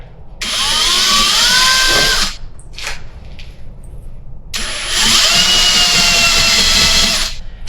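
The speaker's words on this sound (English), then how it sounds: "Let's pre-drill first, I guess," A power drill bores into steel in two long loud runs, pre-drilling a small hole for a slip yoke eliminator kit, its whine rising with a brief pause between, close and harsh.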